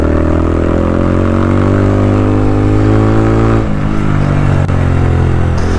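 Honda Grom motorcycle fitted with an OVER Racing TT-Formula RS full titanium exhaust, heard close and loud: a steady mid-pitched engine note with strong harmonics that shifts and dips partway through as the revs change, with no talking.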